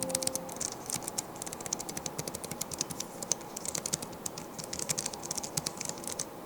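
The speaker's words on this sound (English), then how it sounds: "I like this keyboard. It's a mechanical keyboard, and it just is awesome." Rapid clicky typing on the mechanical keyboard of an Alienware m18 laptop with an AMD 7900M, steady dense keystrokes heard up close and alone, without talk.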